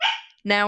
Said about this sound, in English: sorry, that's my little puppy, if you can hear that in the background